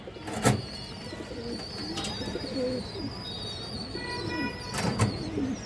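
Two red-eyed female pigeons kept for flying races cooing softly in a loft, low rolling calls under a few sharp clicks and faint higher chirps, with no speech.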